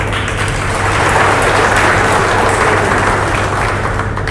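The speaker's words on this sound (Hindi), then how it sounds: "पहले तो आप सब उनके ताली बजाएं" A large crowd claps steadily in dense, continuous applause, loud and unbroken throughout, at an award ceremony honouring railway employees in Moradabad.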